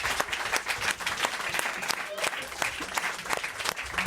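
A studio audience at a French talk show claps in a dense burst with sharp individual slaps, a few voices mixed in under the applause.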